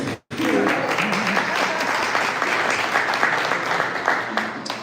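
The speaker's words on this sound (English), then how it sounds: "give him all the claps." Audience at a 1 Million Cups Detroit Metro event applauding together, a dense, loud and sustained clapping from a seated crowd that runs almost the whole clip after a brief pause.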